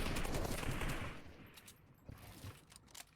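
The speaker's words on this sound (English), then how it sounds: "trying to hold off the gunfire coming from all different directions" Rapid gunfire in a battle royale video game, a dense fusillade of overlapping shots from several directions that tapers into scattered single reports, moderately distant and fairly quiet.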